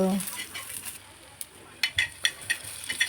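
Coriander seeds dry-roasting in a pan: faint sizzling at first, then a run of close, sharp taps and scrapes as the seeds are stirred and rattle against the metal.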